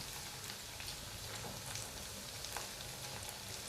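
Sabudana bhaji frying in a pan, a soft, even, faint sizzle with light crackles running continuously without any speech.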